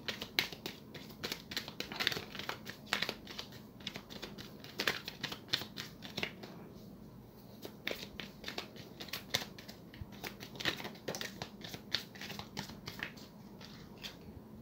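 Tarot cards shuffled by hand during a reading, a run of close, crisp riffling taps and card slaps in irregular bursts, fairly quiet with no talking.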